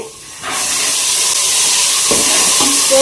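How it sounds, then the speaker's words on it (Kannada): Soaked dried beans frying in hot oil, giving a steady close hiss and sizzle that swells up after a quiet first half-second and stays loud, with brief clinks near the end. "ಎಣ್ಣೆಲೆ ಫ್ರೈ ಮಾಡ್ಕೊಂತ ಇದ್ದೀನಿ"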